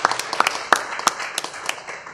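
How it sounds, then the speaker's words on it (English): Audience applause for a panel organizer at a talk event, a dense wash of many hands clapping at moderate distance with scattered sharper claps standing out, steady throughout without speech. "So if we could just give him a round of applause, that'd be really great."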